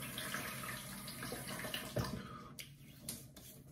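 Warm water runs steadily from a tap into a bathroom sink, a close, even flow with a few splashes as hands dip into it.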